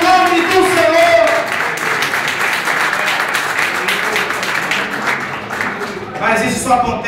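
A church congregation applauds during a Portuguese-language sermon, a dense sustained wash of clapping with voices and shouts mixed in throughout.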